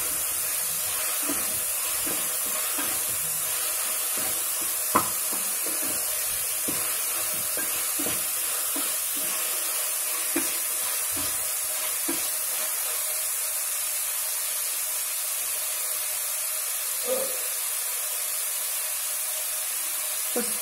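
Minced meat keema with ginger-garlic paste frying in a pan for keema biryani, a soft steady sizzle and hiss with scattered scraping stir clicks, close and quiet, no talk.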